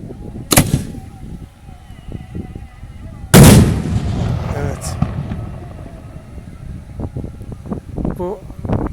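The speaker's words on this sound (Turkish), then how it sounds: "bildiğimiz bir havai fişek." Two sharp explosive firework bangs in Şarköy, the second louder and followed by a long crackling, rumbling tail, with voices and crowd noise around them.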